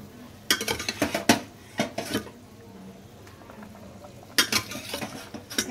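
Pieces of pabda fish go one at a time into a boiling pot of curry with brinjal and posto, giving two bursts of sharp clanks and taps separated by a quieter simmering stretch.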